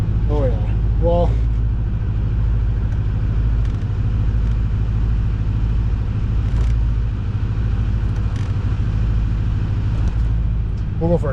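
A lifted truck rolls along on a test drive, its engine and road noise forming a steady, loud cabin rumble, with brief voices near the start and end.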